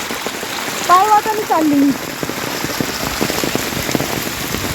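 Heavy rain pours steadily on a footpath in a constant, loud hiss, while someone speaks briefly near the start.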